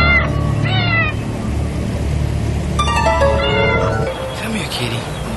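A cat meows several times in a movie scene with dubbed-in Foley, the high drawn-out cries rising over a continuous low background of voices and film sound.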